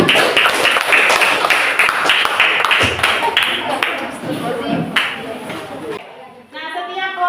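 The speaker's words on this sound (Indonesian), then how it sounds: "Tepuk tangan untuk kelompok 5." Classroom children clap for a student group after its presentation, a loud, dense burst of many hands that fills the clip before fading into quieter room noise near the end.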